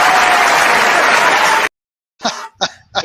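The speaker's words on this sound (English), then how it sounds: "Can we have a big round of applause for Chris?" A live audience claps loudly as a guest is applauded at the close of a talk session. The dense, steady applause lasts under two seconds, cuts off abruptly, and a few short bursts of voices follow.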